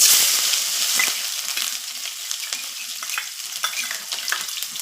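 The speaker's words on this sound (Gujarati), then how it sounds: "પછી આપણે એમાં ચોપ કરેલી ડુંગળી ઉમેરીશું" Chopped onion and asafoetida fry in oil in a pan, with a loud, close hiss that bursts up at the start and settles into a steady crackling sizzle, broken by stirring clicks.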